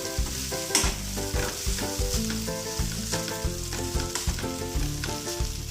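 Semiya egg noodles sizzle and fry in a pan while being stirred, the scraping and tossing repeating steadily and close over a continuous crackle, with no voices present.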